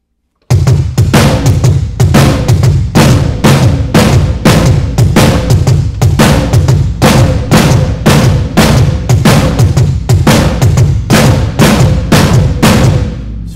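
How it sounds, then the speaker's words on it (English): Snare and floor tom alternating in a fast, steady pattern for the drum part, loud and close, with crisp, even hits driving continuously for over twelve seconds after a brief silent start. "you can play it with the snare and the floor tom"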